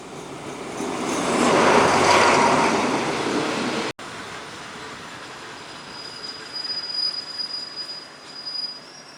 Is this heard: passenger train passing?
yes